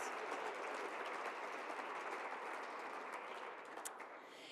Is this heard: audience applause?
yes